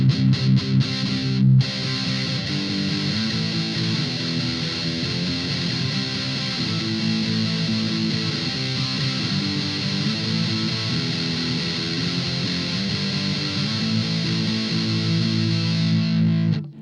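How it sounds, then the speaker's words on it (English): A Maestro distortion pedal with gain maxed and level lowered, tone adjusted, driving an electric guitar into a clean amp: sustained, saturated chords and notes ring continuously and loudly for the whole stretch, with a brief pause near the start. "I got the gain up all the way and the level dialed back so we can hear the distortion sound without it being extra loud."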